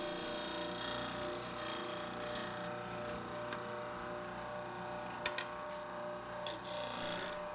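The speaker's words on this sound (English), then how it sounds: "I'm going to need to take this over to the sander and sand the corners round" Wooden picture frame corners being rounded on a sander, a steady, continuous rasping hum of abrasive on wood that runs unbroken throughout, close and moderately loud, with a few faint clicks near the end.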